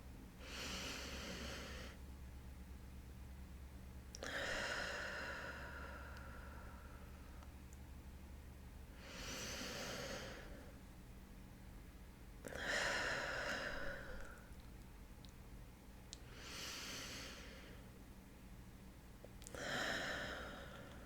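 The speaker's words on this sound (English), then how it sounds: "Now take 3 deep breaths with me. Inhale for 4, hold for 4, exhale for 4." Slow, deep breaths during a breathing exercise, a regular cycle of long drawn inhales and exhales spaced a few seconds apart, close and soft over a faint background hiss, with no speech.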